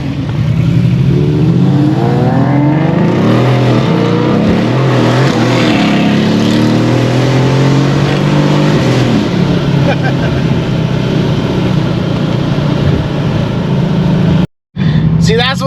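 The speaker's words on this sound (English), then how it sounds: "you can hear my car in traffic. It's obnoxious." Mercedes-AMG car engine in traffic, a loud, continuous droning exhaust note that rises and falls as the revs change, close to the microphone throughout.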